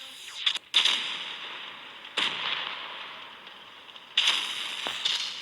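Tank cannon fire and explosions from a tank battle video game, with several sharp loud blasts spaced a second or two apart over a constant engine rumble.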